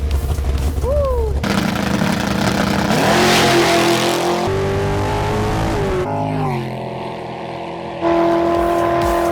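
A 1995 Ford Mustang Cobra race car makes a drag pass on race fuel, its engine loud and close, revving and climbing through several sharp gear-change rises and drops in pitch, with a brief lull before a final sustained high drone.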